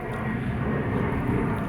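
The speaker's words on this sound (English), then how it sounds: "And I love that plane up there. And I love the noise it's making." An airplane passes overhead outdoors as a steady, broad engine rumble. It is distant but fills the background evenly, with no other sounds over it.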